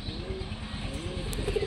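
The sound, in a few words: pigeons cooing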